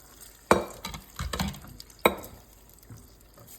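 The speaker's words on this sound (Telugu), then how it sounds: "గోంగూర పేస్ట్ కలుపుకొని ఇలా తిప్పుతా" Gongura paste being stirred into a meal maker and chana dal curry in a pan, with a few sharp clinks of the spoon against the pan over a faint background sizzle.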